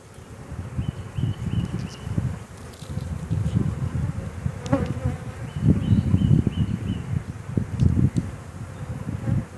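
Honey bee swarm being collected, a dense continuous buzzing from many bees close by, pulsing in loudness over several seconds.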